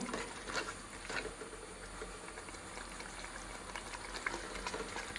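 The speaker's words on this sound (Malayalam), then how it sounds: "ഇതൊന്ന് വെട്ടി തിളയ്ക്കട്ടെ." A pot of roasted coconut chicken curry boils on the stove, a soft steady bubbling and patter with small pops throughout, fairly faint and with no voices.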